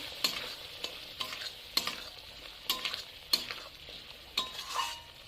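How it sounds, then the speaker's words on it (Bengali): Fried prawns being stirred into a cooked masala for an okra roast: rhythmic spoon scrapes against the pan over a gentle, constant sizzle, with no talking. "এবার চিংড়ি মাছটা ভালোভাবে মিশিয়ে নেব"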